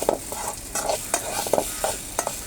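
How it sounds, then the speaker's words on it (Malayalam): Food is stirred in a frying pan with a spoon, giving sharp scraping strokes at a steady rhythm over a soft sizzle, close and fairly loud. "നമുക്ക് ഇളക്കി കൊടുക്കാം"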